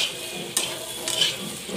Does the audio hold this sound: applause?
no